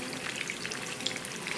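Butter and oil sizzle in a pan while fish fries, a brief steady crackle with small scattered pops close by.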